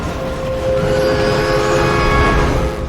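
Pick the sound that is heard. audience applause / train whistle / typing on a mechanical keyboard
train whistle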